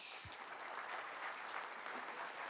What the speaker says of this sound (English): a huge round of applause for CAS Venkatramani, sir